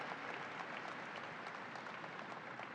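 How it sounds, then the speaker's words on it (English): Crowd applause at the New York State Fair, a steady wash of many hands clapping that stays fairly faint and distant throughout, with no break. "let's give a round of applause for men and women of labor"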